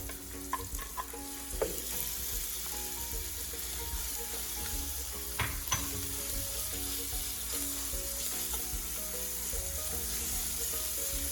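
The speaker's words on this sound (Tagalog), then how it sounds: "We will just let the pork render its own fat para mas malasa po yung ating lumpia." Pork strips sizzle and fry in a pan for vegetable lumpia, a steady crackling hiss with occasional stirring clatters and scrapes throughout.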